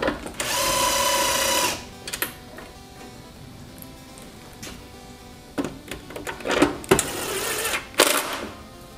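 Screws driven back into the housing of a Lincoln Electric Power MIG 210 MP welder during reassembly: a sustained whirring burst from a powered driver, followed by scattered clicks, clatters and short rattles of parts being handled nearby.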